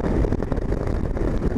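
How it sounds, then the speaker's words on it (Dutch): Strong wind blows beside the A12 motorway, a close, loud, gusting low rumble buffeting the microphone with no voices. "Maar het waait in ieder geval wel hard."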